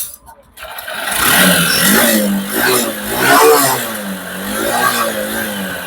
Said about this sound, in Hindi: अब मैं सेल्फ मार रहा हूँ